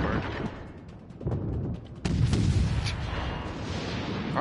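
Warship guns fire in World of Warships, with muffled booming shots rumbling in a noisy game mix and one heavier report standing out near the middle.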